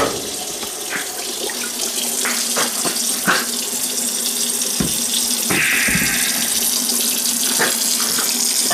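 A trimmed mineral specimen rinsed under a tap, a steady close hiss of running water broken by irregular clinks and knocks as it is handled in the stream, with no speech.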